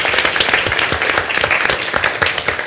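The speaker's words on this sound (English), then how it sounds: "I think that does deserve a big round of applause." A live debate audience in London applauding a £50,000 cheque for a marine protected area, dense sustained clapping from many hands, loud and close throughout.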